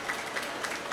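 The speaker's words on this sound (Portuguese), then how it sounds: "palmas aqui para" A crowd at a forum on sustainable urban development in the Amazon claps in a brief, steady burst of applause.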